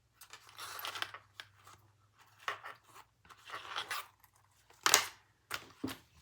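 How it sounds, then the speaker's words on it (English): Scissors snip zippers for a leather sling bag in a series of short, quiet, crisp cuts and crunches, irregularly spaced with pauses, close by with no talking. "Then I will trim my zippers"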